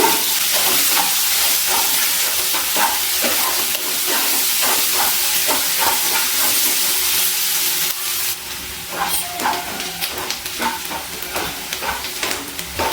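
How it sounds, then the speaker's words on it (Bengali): Chopped onions fry in hot oil in a pan for an egg masala, giving a steady close sizzle and hiss throughout with repeated scraping stirs. "পেঁয়াজটা ভেজে নিচ্ছি।"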